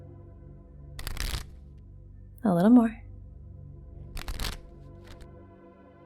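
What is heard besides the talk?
shuffling playing cards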